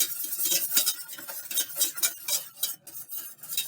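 A whisk beaten vigorously through a creme brulee filling mixture in a bowl, a fast continuous run of bright metallic scraping and clinking strokes, close and steady with no voices.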